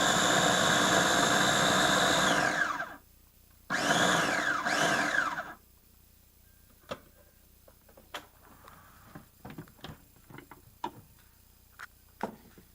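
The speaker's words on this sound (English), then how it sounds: "we're just gonna do a couple like pulse chops" A Cuisinart baby food maker pulse-chops sweet potatoes in two loud whirring bursts with a short pause between them, motor pitch falling as each burst ends, then quiet clicks and handling noises.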